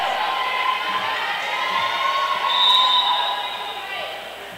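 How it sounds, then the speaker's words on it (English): Crowd at a high school volleyball match between Ponaganset and Cumberland cheering and shouting in a gym, a steady broad roar with a louder swell midway, heard from a distance. "the crowd has gotten into the game"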